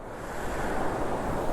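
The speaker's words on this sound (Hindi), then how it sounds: "और जो इसकी हल्की हल्की आवाज़ आप लोगों को सुनाई दे रही होगी पानी की," Mountain river water of the Yamuna near Yamunotri rushes in a steady, broadband wash, moderately loud and continuous, with some wind buffeting the microphone.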